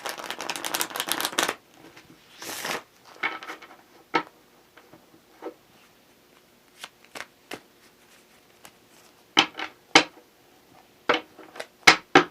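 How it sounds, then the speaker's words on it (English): A deck of tarot cards being shuffled by hand: a dense riffle burst at the start, then scattered sharp card slaps and flicks at close range, with quiet gaps between them. "I'm going to give you 2 more quick shuffles"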